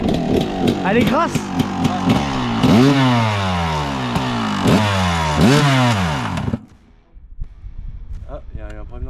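A Yamaha YZ motorcycle engine fitted into a 2021 Honda revs hard in repeated rising and falling bursts, loud and close, with a raspy two-stroke buzz before cutting out abruptly, followed by quieter mechanical ticks and brief talk.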